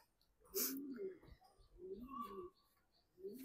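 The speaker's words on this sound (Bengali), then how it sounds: "এই যে আমার কবুতরগুলা" Pigeons in a home loft coo softly in a few rounded, throaty phrases, near and fairly quiet, with a faint rustle between calls.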